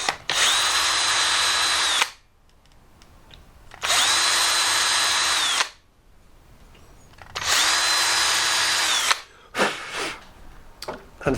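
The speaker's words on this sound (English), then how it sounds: "Next, drill the pilot hole." A power drill with a 2mm bit bores pilot holes into an MDF panel door for hinge screws: three loud, steady whirring bursts of about two seconds each, separated by short quiet pauses and faint handling noise.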